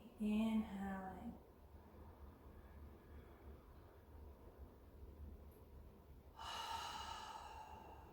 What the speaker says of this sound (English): a couple of deep cleansing breaths in through the nose and out through the mouth